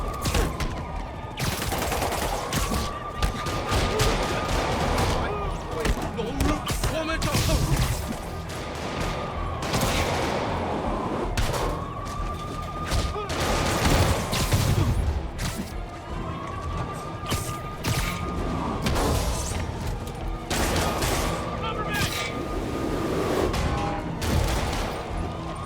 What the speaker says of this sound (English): That shootout's gonna get someone killed